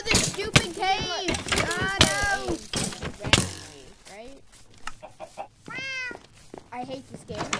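Chickens in a farm-building video game: a string of clucks and squawking calls in bursts, close and fairly loud, with a person talking in between.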